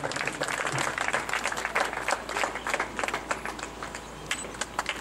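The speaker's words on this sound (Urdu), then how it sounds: "بھرپور تالیاں ان کے لیے بھرپور تالیاں" Applause at a school prize ceremony as a shield winner is called to the stage, a crowd clapping steadily and close, swelling and easing in waves.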